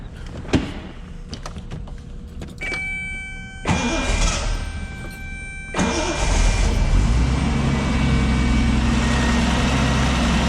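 A 1976 Triumph TR6 starts from cold: a quiet lead-in gives way to the starter cranking, then the engine catches in two surges and settles into a steady, close, loud running note.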